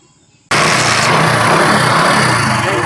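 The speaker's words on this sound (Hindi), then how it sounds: "तो दोस्तों चलिए अब बाइक को स्टार्ट कर लेते हैं।" Passion Pro motorcycle engine fires on a single kick after a brief quiet moment, then runs at a loud, steady, buzzing idle close by with no talking.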